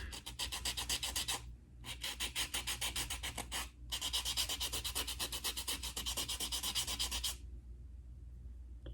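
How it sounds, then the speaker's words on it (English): Nail file buffing an acrylic nail in close, rapid back-and-forth rasping strokes, three bursts separated by short pauses, crisp and steady with no talking. "go over my nail to buff out that excess"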